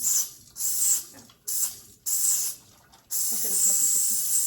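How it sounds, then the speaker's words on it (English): Air compressor running in bursts of sharp hissing spray, several short blasts with brief gaps and then a longer continuous hiss, close by. "He has the compressor on."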